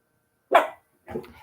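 Two close, loud dog barks ring out in quick succession, a sharp first bark followed by a second rougher one about half a second later, with no other sound around them.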